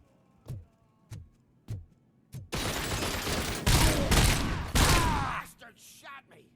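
Video game gunfire: four sharp single shots spaced about a second apart, then a sustained roaring burst of rapid fire that swells and crackles for several seconds before dying off into scattered fainter noises.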